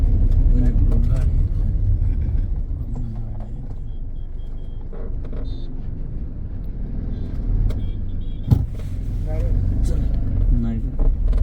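A car approaches from the opposite direction on the Tasgaon–Ashta road in Maharashtra, its passing swell rising briefly over a steady, loud road and engine rumble from a moving vehicle, with a person talking throughout.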